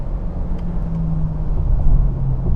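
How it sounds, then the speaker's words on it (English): A 2023 Honda CR-V accelerates at full throttle, its CVT holding a steady, droning engine note that builds gradually in loudness over a low road rumble, with no talking. "Let's go full throttle though."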